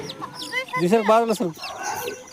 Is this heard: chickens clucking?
yes